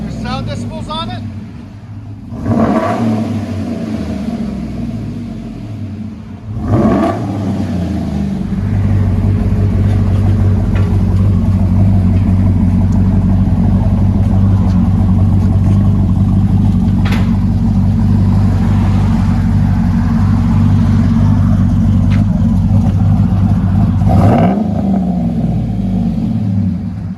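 A 2011 Chevy Silverado with a cammed 5.3L V8, dual exhaust and a Vibrant bottle resonator, giving a few sharp blips before settling into a loud, steady, lumpy idle with occasional revs. A voice talks over the engine.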